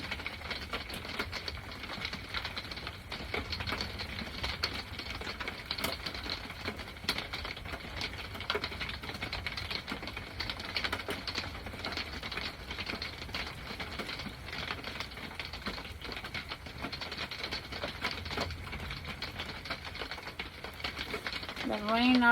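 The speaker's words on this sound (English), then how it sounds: "I love the sound of the rain." Rain falls at night at an off-grid homestead, a faint, continuous soft patter that stays even and steady throughout, with no talking over it.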